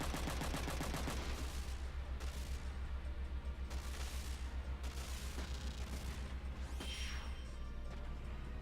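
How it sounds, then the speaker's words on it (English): Rapid machine gun fire from the video game Front Mission 3, dense repeated bursts with sharp impacts and crashes, fairly quiet overall, continuing steadily before easing near the end. "just blow it to hell with a machine gun"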